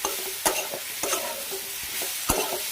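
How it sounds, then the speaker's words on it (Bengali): Potatoes and jackfruit seeds fry in a pan, a steady close sizzle broken by several sharp scrapes and knocks of a spatula stirring them. "এবার একটু এটা ভেজে নেব, ভালো করে এটা ভেজে নেব"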